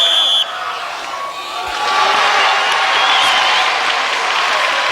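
A crowd at an American Gladiators event cheers and applauds wildly after a competitor fails to knock off the gladiator Laser. The roar swells and stays loud, with whoops over a busy, echoing arena din.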